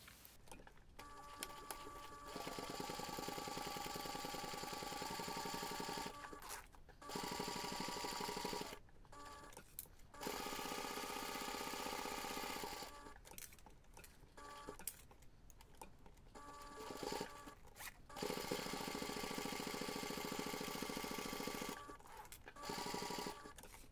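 A sewing machine top stitches the finished seams of a fabric backpack, running in long steady bursts with brief pauses between them, close and fairly quiet, with no talk.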